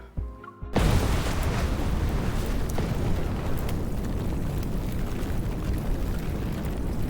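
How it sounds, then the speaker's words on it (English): A three-story building blowing apart in the video game Love and Deepspace, a sudden loud blast followed by a sustained roaring rumble of collapse and debris that stays dense to the end. "The explosion roared to life. The 3-story building crumbled along with its support columns."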